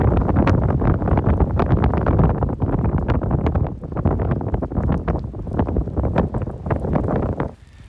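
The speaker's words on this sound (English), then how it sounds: "These winds are gusting like 25 to 30 right now" Strong wind gusting around 25 to 30 on a cold trail roars and buffets the microphone nonstop, gusting loudly and dropping off abruptly at the end.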